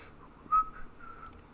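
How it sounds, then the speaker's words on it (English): Someone whistles softly while building a semi truck in Brick Rigs, producing a few brief, faint melodic notes over quiet background hum. "I need to stop whistling."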